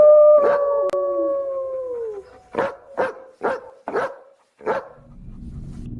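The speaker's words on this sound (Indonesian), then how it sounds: "anjing-anjing di desa tersebut selalu menggonggong ke kuburan si Sarah" Village dogs howling and barking: a long drawn-out howl that falls in pitch, then a run of five or six sharp barks in quick succession, loud and close, over quiet background.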